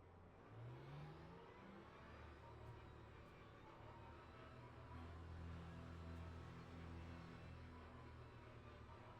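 A Porsche race car engine in the Le Mans Ultimate racing game at Spa drones steadily, rising in pitch as it accelerates, loud and continuous throughout with a faint voice underneath.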